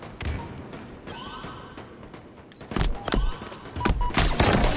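A grenade goes off during a competitive Halo match, with a run of sharp, loud bursts and thuds coming in the second half over a layer of game noise and faint clatter.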